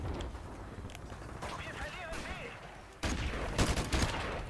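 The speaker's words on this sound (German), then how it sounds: "Total auf den Boden gefeuert mit der AK." AK rifle fire in the Modern Warfare Remastered video game comes as scattered bursts of shots and a heavier cluster of blasts in the second half, mixed with game effects and a voice talking over it.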